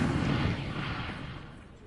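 An incendiary fire spell cast in Hogwarts Legacy, a single deep rumbling burst of flame that swells at once and slowly fades over about two seconds.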